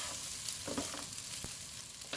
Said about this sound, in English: Just let them cook, stir fry